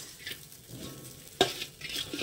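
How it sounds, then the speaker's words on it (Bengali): Halwa mixture frying in a pan with crushed green cardamom, heard as a soft sizzle under slow stirring scrapes, with one sharper clink of the utensil midway. "একটু ভালো করে ভেজে নেবো, একটু সময় দেবো।"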